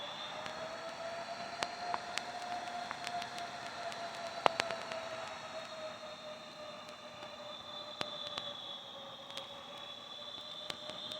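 A Boeing 777 in Aerofly FS 2021 gives off a steady, moderately quiet jet engine whine with a sustained high tone. Brief clicks and ticks are scattered through it, and no one speaks.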